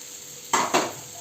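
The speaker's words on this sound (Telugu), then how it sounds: "ఇలా కడాయిలో ఎన్నైతే పడతాయో ఇట్లా వేసేసి ఒక్కొక్కటి ఇట్లా బాగా ఫ్రై చేద్దాం." Sweet stuffed karjikaya dumplings dropped into hot oil in a kadai: a steady frying hiss jumps to two sharp, close sizzling bursts a moment apart, then settles back to a gentle bubbling.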